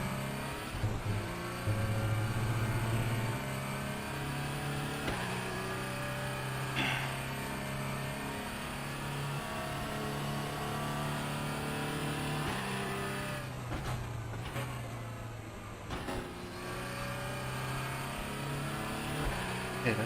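A diesel race car engine in the RaceRoom sim racing game drones and revs steadily, rising and falling through gears with a harsh, buzzy tone, loud and continuous with brief dips as it shifts.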